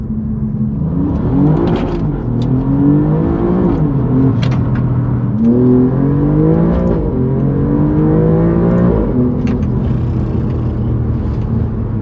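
An Alfa Romeo Giulia GTA M engine revs and accelerates loudly through repeated gear changes, its pitch climbing and dropping in close, continuous sweeps.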